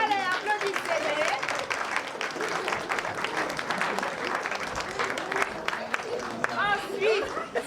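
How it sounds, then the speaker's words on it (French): At an Antillean-themed evening party, a crowd applauds warmly with dense, sustained clapping, joined by cheers and chatter and a voice speaking over it. "Allez, applaudissez-les."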